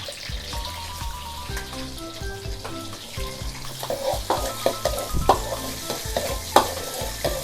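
Two eggs stir-fried in a pan for a Thai boxed meal: sizzling oil with scraping spatula strokes, rhythmic metallic taps growing busier and louder in the second half, no talking.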